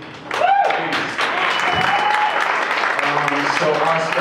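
Crowd at a Colorado Springs business community gathering keeps applauding Frank Sinclair, a sustained wash of clapping with a few whoops and cheering voices rising over it.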